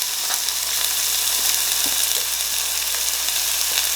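Meat sizzles steadily on a grill during a Korean BBQ meal cooked at home, a loud, even hiss with faint pops and crackles throughout and no talking.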